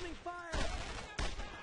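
World War II gunfire in Brothers in Arms: Road to Hill 30 comes as two sharp, loud bursts, with a short tonal game sound before them.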